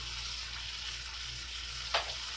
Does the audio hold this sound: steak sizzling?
yes